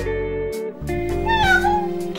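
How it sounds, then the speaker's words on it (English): A cat meows in a drawn-out, wavering cry, clear and close, over a steady tonal background. "Cat."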